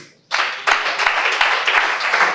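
Congregation at a Christmas church service bursts into loud, sustained clapping that starts abruptly and continues steadily, a dense crowd of hands close and full.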